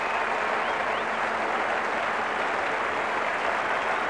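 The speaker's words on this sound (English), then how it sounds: "Great ovation from Dean Jones, from this crowd" A cricket crowd at a 1987 one-day match in Australia gives a sustained ovation as Dean Jones walks off after being caught, a steady roar of applause from a large stadium with no voices on top.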